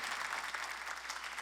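A church congregation applauds together during a Sunday worship service, a dense, steady wash of clapping that fills the room without a break.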